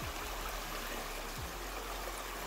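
Stream and small waterfall at a trail water source along the Appalachian Trail: a steady, close rush of splashing water with no pauses, and only faint low thumps underneath.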